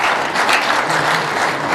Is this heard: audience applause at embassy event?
yes